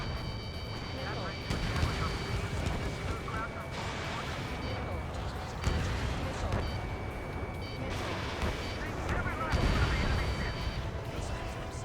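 Missiles launching in Ace Combat 7, with dense, roaring combat noise and repeated rumbling bursts over sustained engine-like drone; a voice talks intermittently over the action.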